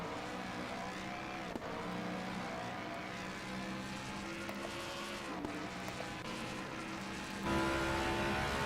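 Race car engine in an ACC sim racing game at Monza, a Reiter R-EX Gallardo heard from outside, droning steadily with shifting tonal harmonics for the whole stretch and a louder surge near the end, with no talking.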